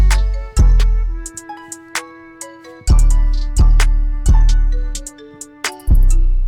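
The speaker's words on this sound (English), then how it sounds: "Now I've got this beat that I cooked up in a previous video," A trap beat built in FL Studio plays alone: deep booming 808 bass hits with long decays, crisp snares and a sparse melodic line in a steady loud loop.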